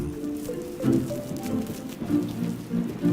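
Steady rain patters on leaves and water in a flooded Brazilian forest, with soft drips and splashes blending into a continuous wet hiss.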